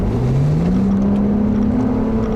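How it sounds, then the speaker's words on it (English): A 2008 Acura TL engine revs steadily, its drone rising smoothly in pitch and holding loud and close throughout. "It still revs up very smoothly."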